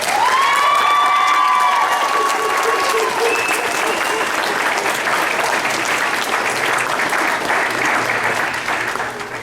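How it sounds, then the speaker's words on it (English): A graduation ceremony audience gives long, sustained applause with some cheering, full and loud at first and then gradually thinning toward the end, with a voice speaking briefly over the start. "let's give your fantastic teachers another huge round of applause."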